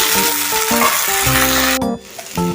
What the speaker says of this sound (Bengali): এবার পেঁয়াজগুলোর সাথে সাথে আমি আলুগুলোও ভাজবো